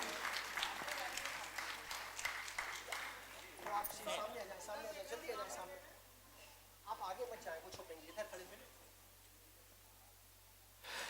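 Audience applause fills a Hindi-language literary and journalism award ceremony, sustained broadband clapping under a voice, fading around the middle, then a second burst of applause returns near the end.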